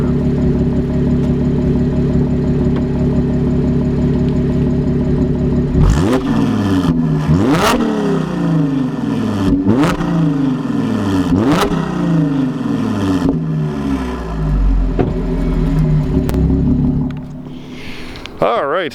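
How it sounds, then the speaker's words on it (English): A 2015 Audi S5 supercharged V6 revved with the microphone right at the exhaust: a loud, close idle burble, then a series of sharp throttle blips rising and falling in pitch, settling back to idle. "rev the engine a little bit, just so you can see, or not see, but hear how wonderful that exhaust sounds"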